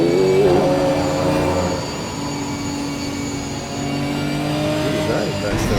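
BMW GT4 race car passing during a race at Donington, a continuous engine roar heard from inside another car, with the pitch shifting as it goes by amid constant road and drivetrain noise.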